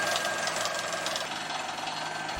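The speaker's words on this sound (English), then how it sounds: "The drilling begins through the compact dirt overlaying the limestone." Rock drill hammering through compact dirt over limestone, a steady, dense and loud mechanical pounding that holds unbroken throughout with no pauses.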